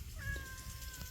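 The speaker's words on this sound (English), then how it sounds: "my whiny cat's right down there" A whiny cat gives a single drawn-out meow, fairly near and clear, with faint background murmur and no talk.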